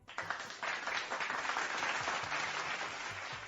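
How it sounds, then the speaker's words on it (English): Applause rises after a quiet start and holds as an even, moderately faint clapping wash for a few seconds, with no talk over it. "one applaud for y'all as well"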